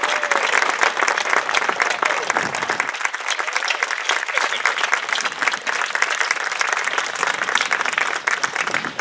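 Sustained applause from an audience at an outdoor memorial service, dense steady clapping that holds at a moderate level throughout, heard from within the crowd.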